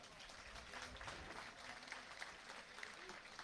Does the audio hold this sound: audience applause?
yes